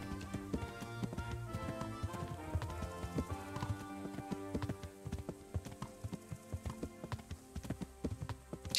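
A horse's hooves clop in a rhythmic gait while riding through open countryside in Kingdom Come: Deliverance, steady and close, layered over soft background music.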